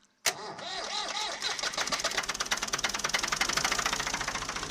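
An old farm tractor engine cranks and catches after its ignition terminals are arced with a crescent wrench, a sharp click followed by a loud, close, steady knocking idle that settles into an even rhythm.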